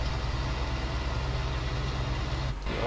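Truck engine in Landwirtschafts-Simulator 19 running steadily with a low, droning rumble throughout, close and continuous with no talk.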